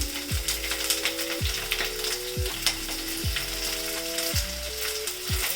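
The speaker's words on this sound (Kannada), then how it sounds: "ನೀಟಾಗಿ ಫ್ರೈ ಆದಮೇಲೆ ಉದ್ದುದ್ದಾಗಿ ಹೆಚ್ಚಿರೋ ಈರುಳ್ಳಿ" Sliced onions frying for biryani give a steady broadband sizzle, overlaid by repeated descending tonal sweeps and mechanical ratcheting clicks in a regular rhythm, fairly loud and close, with no talking.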